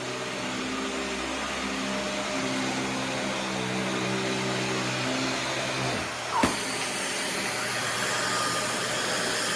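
A Dyson DC41 upright vacuum cleaner drones steadily and loudly at close range, with a brief clunk partway through before the motor noise continues unchanged.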